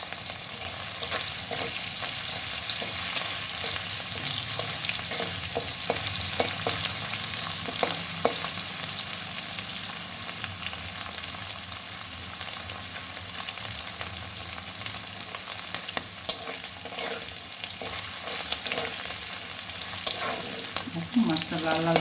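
Dried fish (shutki) frying in a pan with oil, a steady broadband sizzle that runs close and continuous throughout, with occasional clicks of stirring and no talk.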